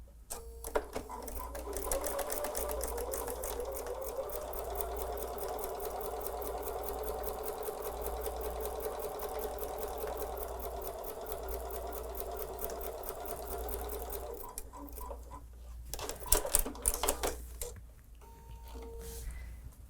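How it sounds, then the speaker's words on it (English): A sewing machine stitches a quarter-inch seam slowly and steadily, a close, continuous mechanical whir with a fine rapid tick, running for about thirteen seconds before stopping, followed by a few brief handling clatters. "you're sewing slowly to achieve a perfect 1/4 inch seam allowance here"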